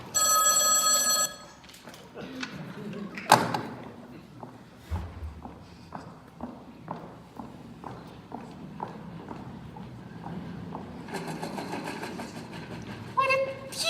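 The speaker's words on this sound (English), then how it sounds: "I don't want this number ruined by another ringing telephone" An old-style telephone bell rings in bursts at the start and again near the end, with footsteps and quiet movement in between.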